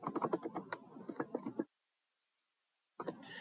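Fast typing on a computer keyboard entering a library card number, a close run of quick key clicks that stops for over a second, then resumes.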